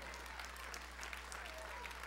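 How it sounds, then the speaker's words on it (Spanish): Church audience applauding during a sermon, a faint, steady wash of clapping heard from a distance over a low electrical hum. "Ahora todo el mundo está aplaudiendo, gracias."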